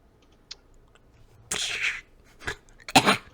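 A video game character coughing in a haunted manor scene, two or three short, sharp bursts spaced apart after a faint click, fairly close and alone without talk.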